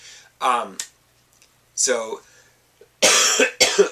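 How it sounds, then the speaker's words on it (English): A few separate coughs, dry and close, coming in short clusters with brief pauses between them. "I can feel my coughing coming back."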